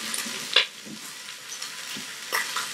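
Bones brown in an Instant Pot on the way to bone broth, sizzling and frying with a steady crackle, broken by a few sharper scrapes and stirring clatters, close up and with no talk.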